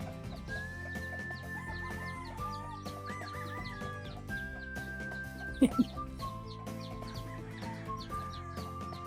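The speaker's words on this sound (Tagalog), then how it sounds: "Namamalo yung inahin kaya pinahuli ko muna kay Richard." A mother gamefowl hen clucks and cackles in a farmyard amid layered background noise and other animal calls, with two sharp louder bursts midway.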